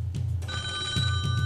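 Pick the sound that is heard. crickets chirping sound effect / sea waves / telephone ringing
telephone ringing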